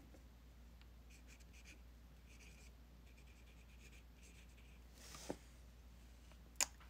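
An oil painting of a magnolia is signed by hand, giving faint, quiet scratchy strokes in short bursts, ending with a couple of small taps.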